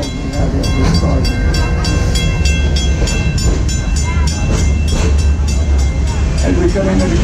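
Amusement park train ride at Busch Gardens rolling steadily toward the Congo station, with a continuous loud rumble and rhythmic wheel clatter filling the whole stretch, under a public-address-style voice and crowd noise.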